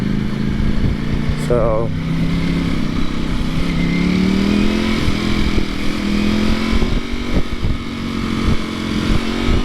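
A Ducati V4 SP motorcycle engine drones loud and close on a test ride, its steady note rising gradually in pitch, with wind buffeting throughout and a brief spoken word near the start.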